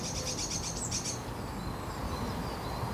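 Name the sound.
blue tit alarm call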